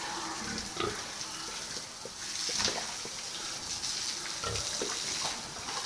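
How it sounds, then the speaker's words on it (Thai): Pigs lie in a farm water trough during hot weather, giving soft grunts and splashes over a steady wash of water, with brief louder stirrings scattered through the scene. "พากันมานอนอยู่อ่างน้ำเด้อหมูร้อน"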